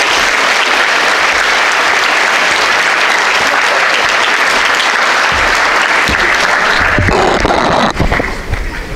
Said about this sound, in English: Please put your hands together for Mr. Frank Coppola.